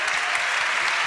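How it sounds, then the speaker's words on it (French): Audience applause for Karim Rissouli at a French media awards ceremony, a dense, loud wash of clapping filling the whole moment without pause. "Et pour voir Karim Rissouli, il suffit de l'applaudir."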